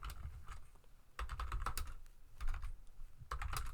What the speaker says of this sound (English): I'm going to type last element.